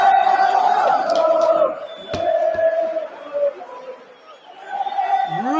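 Football crowd at Anfield during Liverpool vs Chelsea, a broad sustained roar with chanting voices rising and falling, loud and distant, with a sharp clap-like crack partway through and the noise fading toward the end.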